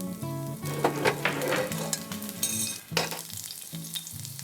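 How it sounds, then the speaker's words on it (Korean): Garlic, parsley stems and peperoncino sizzle steadily in olive oil in a pan, a dense close frying hiss with occasional stirring clinks and light utensil taps throughout. "팬에 올리브 오일을 넉넉하게 두르고 마늘, 파슬리 줄기, 페퍼론치노를 넣어 향을 올려주겠습니다."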